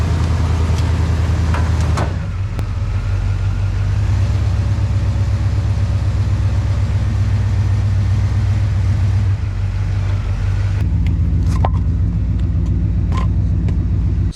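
A car engine idles steadily to warm up before an oil change, giving a close, continuous low rumble with a few faint clicks and knocks over it.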